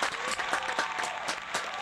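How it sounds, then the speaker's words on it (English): Crowd applause at a live show honouring a professional barber, brief bursts of dense clapping, loud and close, filling the whole short moment. "So let's have a big round of applause for Prez Francisco, everyone."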